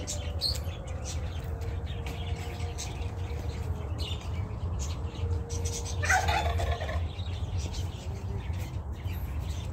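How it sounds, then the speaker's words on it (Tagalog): Turkeys gobble on a strawberry and vegetable farm, rapid warbling calls bursting out several times over a steady low background hum, moderately close. "Pabo."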